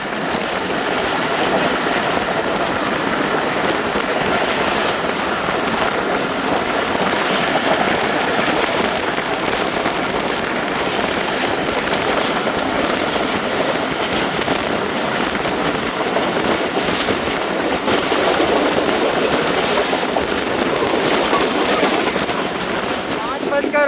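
Onboard the Karachi Express passenger train, a steady loud rumble of wheels on rails with rhythmic clatter and rattling carriage noise, unbroken throughout.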